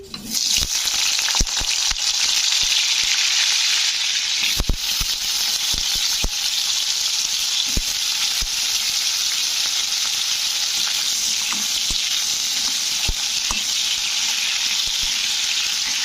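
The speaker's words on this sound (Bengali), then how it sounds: "আলুগুলো একটু হালকাভাবে ভাজা মানে ভাজা ভাজা করে নিলাম" Continuous loud sizzling of potatoes frying in hot oil, with occasional clicks and stirring knocks throughout, no talking.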